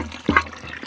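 Water briefly splashes and gurgles while rinsing a container outdoors in a village by a spring-fed water source, a short, close burst under a second long with no talk.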